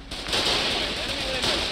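Gunfire in the video game Foxhole during a half-track assault: a dense, continuous roar of rapid shots with no breaks between them.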